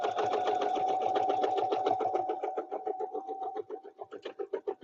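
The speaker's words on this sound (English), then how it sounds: "I'm going to flip it again and do the double stitching on the top." A sewing machine runs double stitching across fabric for a spinning petals box project. It starts as a fast, steady, close stitching rattle, then slows into separate, evenly spaced stitches toward the end.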